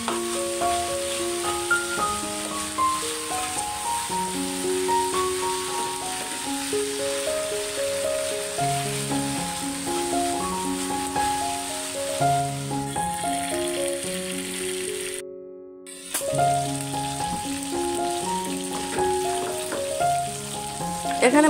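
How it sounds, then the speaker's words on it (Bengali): Farm chicken pieces frying in a pan of oil, a steady loud sizzle with rattling turns as the pieces are flipped, under background music with a brief dropout near the end. "উল্টে পাল্টে ভেজে নিচ্ছি"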